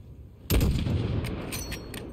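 A single sharp rifle shot fired at a distant target in Call of Duty Modern Warfare, loud and sudden, followed by a long rumbling echo that slowly fades.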